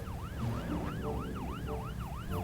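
A police car siren in the Car Parking mobile game wails in a rapid, repeating yelp, each sweep rising and falling about three times a second, loud and continuous over a low engine rumble.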